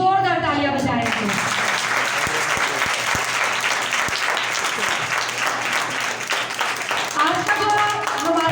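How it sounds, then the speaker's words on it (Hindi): A church congregation breaks into loud, sustained applause, dense clapping from a large crowd filling the room, with a voice audible at the very start and end. "सो हम उस शान वाले और उस बड़े खुदा के लिए जोरदार तालियां बजाएंगे"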